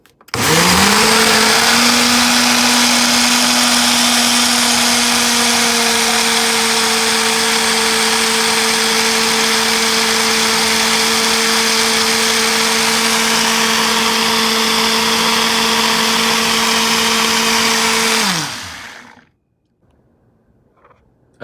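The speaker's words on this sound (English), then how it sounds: "Take this on the blender and let's blend it all up." Blender whirring steadily as it purees protein pancake batter with a little water, a loud continuous motor drone with a stable hum that runs about eighteen seconds before spinning down and stopping, with no talk over it.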